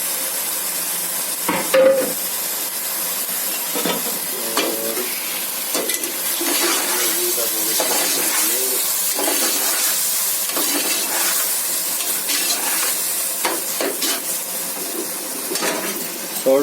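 Tomatoes and green chilies frying for beef biryani give a steady, fairly loud sizzle with intermittent stirring scrapes and spoon knocks in the pan, continuing without talk.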